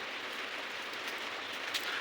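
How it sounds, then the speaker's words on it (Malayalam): Steady rain falls outside a house, a continuous broadband hiss of drops on surfaces with no voices, evenly loud throughout. "ഇതിലൂടെ കാണാൻ പറ്റത്തില്ലായിരിക്കും മഴ പെയ്യുന്നുണ്ട്"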